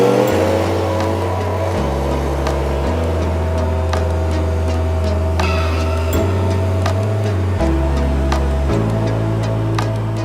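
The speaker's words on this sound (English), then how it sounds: "we've got our Stihl SH86. This is a shredder blower, so it can blow us sand off for us." A Stihl SH86 shredder blower's small engine drones loudly while blowing sand off interlocking paving stones, stepping up and down between speed levels in a steady pattern.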